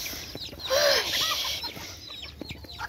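A flock of hens clucks and squawks close by on a farm, bunched around livestock being fed from a feed sack, with overlapping calls rising and falling.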